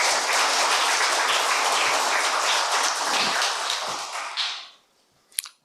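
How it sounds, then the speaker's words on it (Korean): A church seminar audience breaks into warm, dense applause to welcome a visiting medical professor, the clapping holding steady before fading out, followed by a single sharp tap. "박수로 환영하겠습니다"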